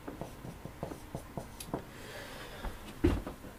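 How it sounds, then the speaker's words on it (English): Marker or chalk writing on a lecture board, a run of quick scratchy strokes and taps in an uneven rhythm, close and moderately loud, ending with a firmer knock. "I'll just write ET life"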